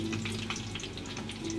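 Breaded chicken nuggets fry in foaming oil, giving a steady, close, dense sizzle with crackling pops throughout and no voices.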